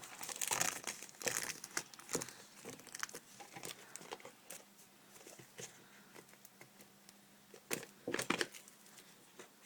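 Packaging of cheap wireless earbuds bought for 50 TL is being opened: close, irregular crinkling and crackling bursts with short quiet gaps, fairly soft overall, and no one speaks.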